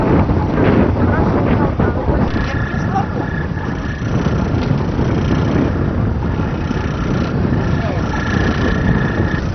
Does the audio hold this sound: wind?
yes